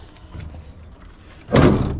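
A heavy excavator cab door swings shut with a loud, close metallic thud after a stretch of quiet rustling, and the sound rings out briefly.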